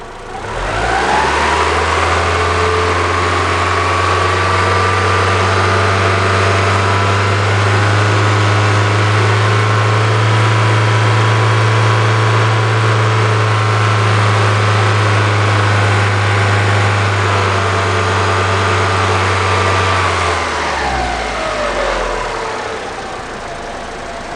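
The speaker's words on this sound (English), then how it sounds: "Let's increase the engine speed." A car engine with a catalytic converter under test revs up and holds at a high, steady pitch for a long stretch, then drops back down to idle near the end; no voices.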